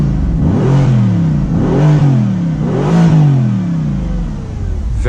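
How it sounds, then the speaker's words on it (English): Mercedes-AMG GT C V8 engine revved with exhaust valves closed in comfort mode, three rising and falling revs in succession, loud and close, with the engine idling in between and no talking. "Very nice V8 sound already."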